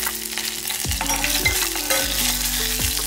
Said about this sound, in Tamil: ஒரே ஒரு காஞ்ச மிளகாயை கிள்ளி போட்டுக்கலாம்.